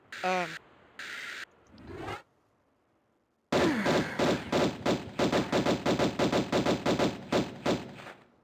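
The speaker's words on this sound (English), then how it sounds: "Stop shooting me!" Video game gunfire: a few early shots and a lull, then a long rapid burst of evenly spaced automatic shots, loud and close, with a voice speaking at the start.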